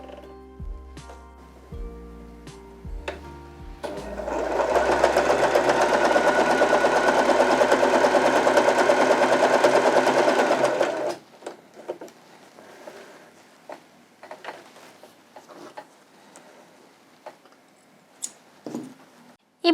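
A Janome 311 sewing machine runs a zigzag stitch at length 3, a fast steady whir lasting about seven seconds, with scattered clicks and handling sounds before and after.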